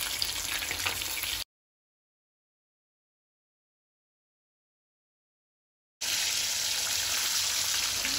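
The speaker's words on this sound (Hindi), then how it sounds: "हम इसको बस 1 से 2 मिनट इसी तरह से फ्राई करेंगे।" Chicken nuggets deep-frying in oil in a kadhai, a loud, steady, close bubbling sizzle that cuts out abruptly into silence for several seconds before resuming at the same intensity.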